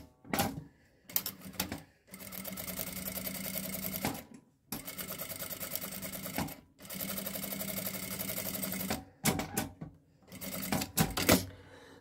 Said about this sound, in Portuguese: Eu vou costurar bem em cima do risco de caneta.